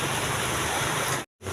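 Heavy rain pours outside a roadside food stall, a dense, loud, steady hiss that briefly drops out near the end.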